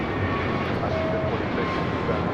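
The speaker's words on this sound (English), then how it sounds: "Got that Turkish Dreamliner now about to land on the north side on 24 left" Turkish Airlines Boeing Dreamliner landing on runway 24 left at LAX, a steady broadband jet roar heard from a distance, continuous and even over the short span.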